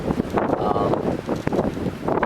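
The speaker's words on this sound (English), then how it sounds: "Still windy." Gusty wind buffeting a microphone at a winter bushcraft camp in the morning, a loud rumbling roar with rising and falling bursts throughout.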